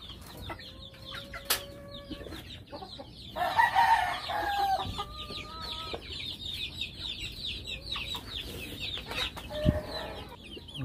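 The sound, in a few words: backyard chickens clucking and crowing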